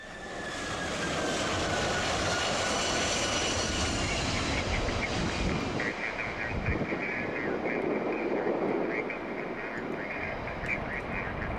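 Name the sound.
Boeing 767 jet airliner landing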